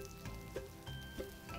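Blintzes fry open side up in butter in a pan over gentle heat, giving a quiet, steady sizzle and crackle with a few soft pops, close by and with no talk.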